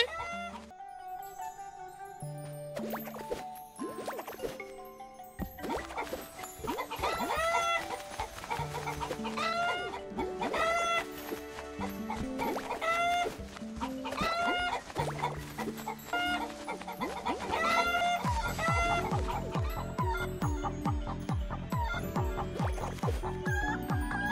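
Several hens cluck together in a loud, busy stretch of overlapping calls, with a rooster-like cry and a dog bark mixed in, on an outdoor walk.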